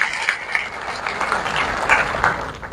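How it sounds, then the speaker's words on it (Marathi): An audience at a workers' rally in Maharashtra claps loudly and continuously in a dense, steady wave of applause, with a few sharper swells partway through and no speech over it. "आपल्या सगळ्यांचं एकदा जोरदार टाळ्या वाजवून आपण अभिनंदन करूया"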